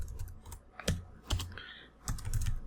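Code being typed on a computer keyboard: irregular close-up clicks and clacks in short bursts and single presses, with brief pauses between them and no talk.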